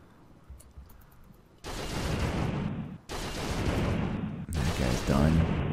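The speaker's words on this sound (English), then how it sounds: "That is the auto cannon." An autocannon fires in the video game RimWorld in three loud, dense bursts of booming, rattling fire, separated by short pauses, after a quieter opening.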